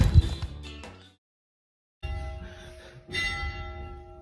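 A church bell rings in a deserted village in Salento, a loud ringing strike that decays, a second of silence, then further strokes with long ringing overtones.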